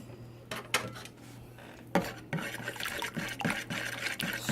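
Homemade soap being stirred into water in a container, clinking and scraping of a utensil against the vessel with light sloshing, irregular strokes close by.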